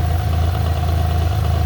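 A 1991 Geo Metro's engine idles steadily with a leaking radiator, a constant low hum with an even throb and a faint clatter, close and without voices.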